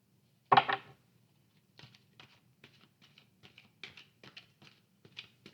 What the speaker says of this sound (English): I'll do 2 more shuffles and then I'll pull.